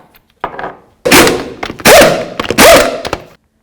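A wheel being mounted back onto a Ford Expedition rear hub makes a few sharp metallic clunks and thuds, then a pair of loud bursts with rattling as the lug nuts are started, close and without talk.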